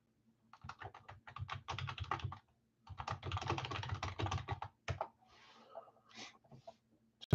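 Rapid typing on a computer keyboard, close and dry, in two long bursts of dense clacking separated by a brief pause, then a few scattered keystrokes and soft shuffling at the end.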